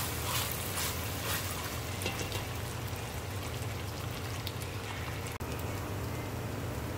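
Meat frying and browning in bacon fat in a pan for a carne en su jugo, a steady dense sizzle that continues evenly throughout, close up, with no talking.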